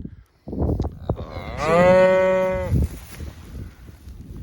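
A single long moo from one of the beef cows in a pasture herd of fall-calving cows, a bull and bred heifers, loud and close, rising and holding for about a second before trailing off amid low outdoor rumble.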